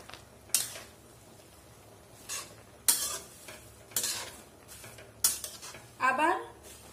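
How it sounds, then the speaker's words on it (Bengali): Leafy greens are stirred into a pumpkin stem and potato curry in a pan, with several sharp scrapes and clinks of a utensil against metal over a soft sizzle, spaced a second or two apart. "এখন আমি পাতাগুলোকেও দিয়ে দেব। একটু মিশিয়ে নেব।"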